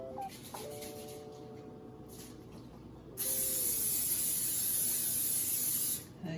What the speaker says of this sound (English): gonna spray the butter on there.